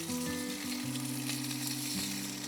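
Whole chicken thighs sizzle loudly in a single pan at a roadside campsite, a dense, steady frying hiss heard close with no talking.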